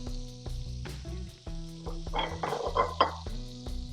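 Steak searing in a pan gives a crackling sizzle that rises and falls over a low steady hum, with a few light clinks near the end and no talk.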